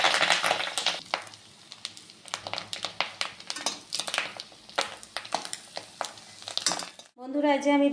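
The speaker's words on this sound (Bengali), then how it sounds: "আরেক পিস আমি ভাজতে দিয়েছি" Pieces of fish roe frying in a pan, with soft sizzling under frequent clinks and scrapes of a utensil against the pan, and a voice speaking briefly at the end.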